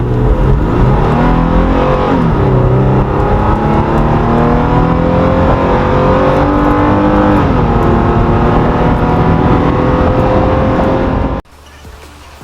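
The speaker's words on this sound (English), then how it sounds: "Alrighty, I just turned on the Ect Power and it keeps it in gear longer, and it kind of lets the RPMs go up a little higher" A Toyota Tacoma SR 4x4 with a 3.5-liter V6 in ECT Power mode accelerating hard, heard from inside as a loud, rising engine drone climbing through the revs with brief dips at gear changes, then cutting off abruptly near the end.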